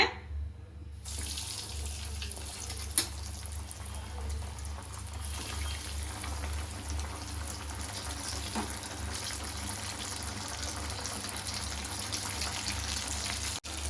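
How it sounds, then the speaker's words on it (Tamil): Potato chicken gola balls deep-frying in hot oil, a dense, steady rushing sizzle that starts abruptly after a quiet second and holds loud and close throughout, with one small sharp pop early on. "இப்போ அந்த பொட்டாட்டோ சிக்கன் கோலாவை எடுத்து டீப் ஃப்ரை பண்ணிக்கலாங்க"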